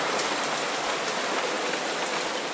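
Steady rain falls in a visual novel video game, a constant dense hiss of drops hitting a surface, even and uninterrupted with no voices.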